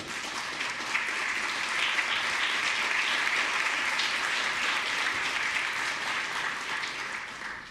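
Chamber applause during a regular legislative session for VCU Massey Comprehensive Cancer Center, a full, even roomful of clapping that swells slightly in the middle and tapers gently toward the end.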